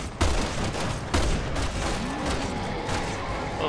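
Gunfire in the survival horror game Resident Evil 6: two sharp shots about a second apart ring out over a continuous loud rumble of combat noise and echoing reverb.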